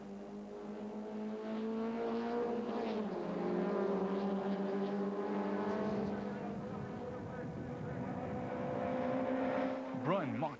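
Pro Car racing cars' engines whine and rise in pitch as they pass on a track during a 1999 race, a steady roaring drone with shifting tones, heard from a moderate distance.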